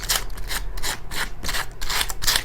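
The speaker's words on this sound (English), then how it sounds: "I have here a 220 grit sanding block, and I'm just going to take it over the edge of my frame" A 220 grit sanding block rubs along the edge of a frame covered in decoupage paper. Quick back-and-forth strokes make a close, rhythmic, raspy scratching, about eight passes in a few seconds.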